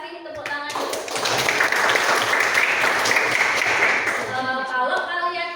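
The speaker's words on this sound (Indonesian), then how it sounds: "Iya, Aska, kita kasih tepuk tangan dulu." Schoolchildren in a classroom clap for a classmate, a burst of applause swelling for about four seconds with brief talk before and after.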